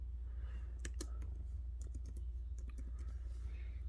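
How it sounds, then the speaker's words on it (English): Keys tap on a computer keyboard in short irregular clusters, faint and close over a low steady hum, with no voices. "We're going to type in high school."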